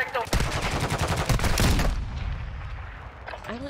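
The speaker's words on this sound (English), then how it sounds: "Oh my god, I hear him shooting." Enemy player's gunfire in Call of Duty DMZ, a dense rapid burst of automatic fire that stops abruptly and trails off into a fading echo, with faint voices in the background.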